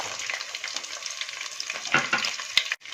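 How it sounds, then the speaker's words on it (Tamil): Small onions sizzle and crackle in hot oil with dried red chillies for sambar rice, a dense steady frying hiss close by with a brief stir clatter near the end and no talk. "இதெல்லாம் நல்லா பொரிஞ்சதுக்கு அப்புறமா சின்ன வெங்காயம் ஒரு 100 கிராம் அளவுக்கு சின்ன வெங்காயம் ஆட் பண்ணிக்கலாம்."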